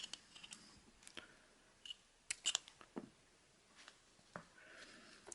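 Scissors make a few sharp snips through carp fishing line, about 30 centimeters of mono, braid or fluorocarbon, while a hair rig is being tied. The clicks are close and quiet, spaced over a near-silent background.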